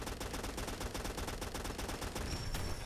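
A DP-27 Degtyaryov machine gun fires in Fallout 4, a rapid, steady stream of evenly spaced shots for about three seconds, fairly quiet overall, with a brief metallic ring near the end.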